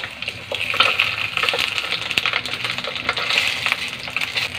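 Smoked fish (tinapa) fries with onion and tomato in a pan, giving a steady, close crackling sizzle with scattered sharp pops and stirring scrapes throughout.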